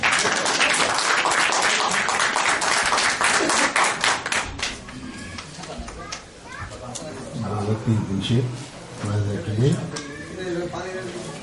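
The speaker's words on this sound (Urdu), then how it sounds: "آپ کی تالیوں کے استقبال میں" Audience at an Urdu mushaira poetry gathering bursts into loud, dense clapping to welcome a poet, the applause fading after about four seconds into a man's recitation that carries on over a low murmur of the hall.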